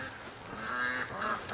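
Ducks honk outdoors near a lake, a couple of faint, nasal calls heard from a short distance with no talk.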